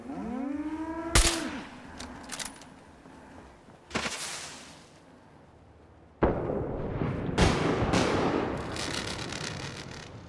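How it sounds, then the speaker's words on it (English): Fireworks in the video game Fallout 4 at the Starlight Drive In settlement, with several sharp bangs and cracks, a rising whistle early on and crackling bursts, spaced apart over quiet ambience. "But it's always nice to have a firework."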